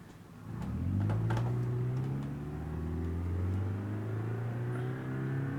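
A diesel truck engine in BeamNG.drive revs up and holds a steady, loud drone with a low harmonic hum that rises and then settles, continuous throughout with no talking.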